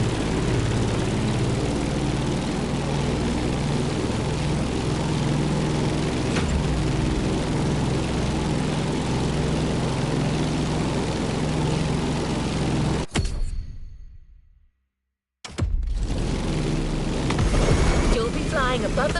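F8F Bearcat propeller fighter plane in The Crew Motorfest racing game, a steady loud engine drone that cuts out briefly near the end before returning at full strength.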